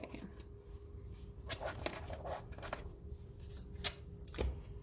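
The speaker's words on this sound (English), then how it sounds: "Let me just shuffle these really quick." A deck of cards being shuffled by hand, quiet riffling and soft flicking bursts over several seconds, with no talk.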